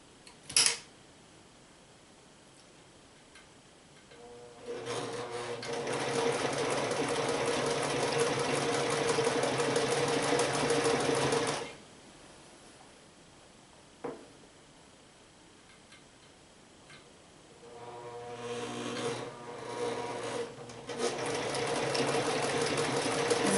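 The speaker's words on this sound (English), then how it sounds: "It's an old sewing machine. Sometimes it doesn't pick up as fast as it should." A roughly 40-year-old sewing machine runs in two long bursts of steady mechanical whirring, separated by quiet pauses and a few brief clicks, close and alone without talk.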